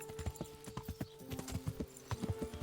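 A horse's hooves clip-clop steadily at a walk in the medieval game Kingdom Come: Deliverance, with the even rhythmic beat heard fairly close and quiet and faint horse snorts in the background.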